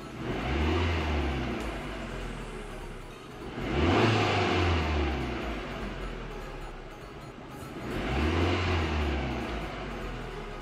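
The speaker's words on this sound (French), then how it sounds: "On va accélérer un petit coup pour voir." A Fiat Grande Punto 1.4 T-Jet engine with a suspected faulty lambda sensor revs up three times in slow waves, each surge climbing and then easing back toward a rumbling idle, close and steady with no talking.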